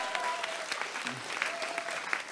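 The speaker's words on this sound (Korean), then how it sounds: "다시 한번 큰 박수 부탁드리겠습니다." Audience applause at a Democratic Party concert event in Daegu-Gyeongbuk, a steady wash of clapping from a crowd, moderately loud and continuous with faint background voices mixed in.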